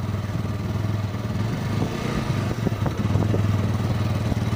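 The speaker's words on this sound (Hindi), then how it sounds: "ये है न्यूट्रल और हमने इसमें फर्स्ट गियर डाल दिया है।" An Apache RTR 180 BS6 motorcycle engine idles in neutral, a steady mid-pitched putter running throughout at close range with a few small revs and knocks, no talk over it.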